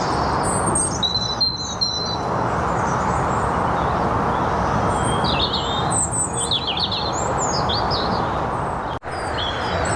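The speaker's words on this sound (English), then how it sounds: "Bird song." Birds chirp and sing in short repeated phrases over a steady outdoor background near lakes along a shady walking path with snowdrops.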